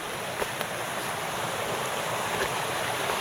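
Creek water rushing steadily past a nearly full dam with an opened spillway, a loud, continuous outdoor wash with broadband wind-like roar and no talk.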